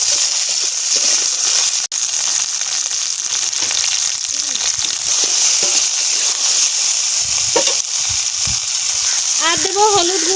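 Okra added to hot mustard-style oil already used for frying fish and potatoes sizzles loudly and steadily close by, with occasional stirring scrapes and clinks in the pan.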